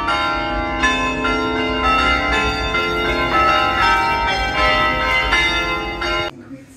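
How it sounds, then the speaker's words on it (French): Carillon church bells ringing in the town centre of Bergues, a loud, sustained melodic peal of overlapping bell tones that rings on for several seconds before cutting off. "c'est là qui joue au carillon"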